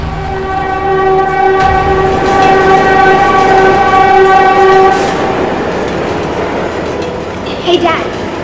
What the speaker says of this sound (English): Subway train system?